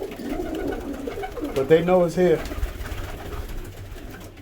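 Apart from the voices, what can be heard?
pigeons cooing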